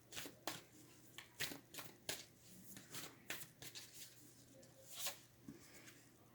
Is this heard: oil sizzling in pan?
no